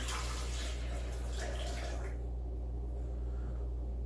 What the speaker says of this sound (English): I'm just going to add in a couple cups of water.